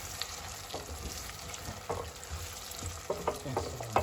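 Spoon stirring a frying tomato stew for Nigerian jollof rice in a pot, with soft scraping strokes and gentle sizzling, close and moderately quiet, stirring taps growing more frequent toward the end.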